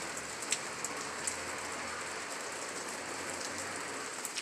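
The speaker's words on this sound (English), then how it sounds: "Well, this is our rain that was predicted through that video yesterday of those colorful rings" Steady rain falls and patters on outdoor surfaces, a dense, even hiss with scattered louder drops, continuous and unbroken with no voices.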